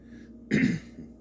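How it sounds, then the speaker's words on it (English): A single short, rough throat clearing, close and fairly loud, rising out of near silence and then settling back down. "I'm sorry for clearing my throat."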